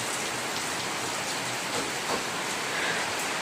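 Steady rain falls on a roof, a dense even hiss of drops that holds at the same level throughout, close and fairly loud, with no voices over it.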